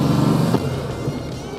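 A Porsche 356 pulls away hard in first gear, its engine note loud and close, with a crowd applauding; the pitch steps up after the first half-second as the car moves off.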